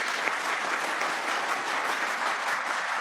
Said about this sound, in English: A round of applause in a Senate hearing?